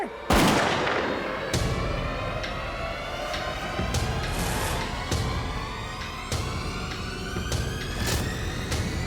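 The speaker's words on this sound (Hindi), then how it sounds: "पूर्वी गुस्सा मत दिलो, वापस आ जाओ वरना मैं गोली चला दूंगा" A loud gunshot cracks at the start and echoes, followed by a string of sharp, booming hits over a rumbling background.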